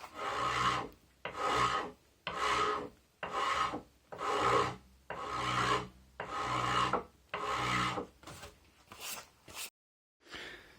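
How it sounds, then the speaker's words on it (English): A file rasps against a wooden axe handle being fitted to a hatchet head. Nine or ten rhythmic strokes come up close, each a loud gritty scrape of about a second, separated by brief pauses, before a short silence. "I will get closer with the file"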